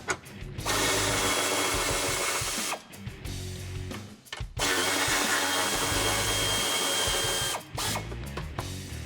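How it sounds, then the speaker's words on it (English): A power tool spins a 16mm socket to back out bumper bracket bolts from the frame of a Jeep Wrangler, running in long loud whirring bursts separated by short pauses. "We're going to use a 16mm socket to get those out"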